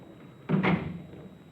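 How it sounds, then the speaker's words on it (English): A door closed in an old radio drama, a single short thud with a muffled wooden knock, close and alone in the middle of a quiet moment. "Close the door."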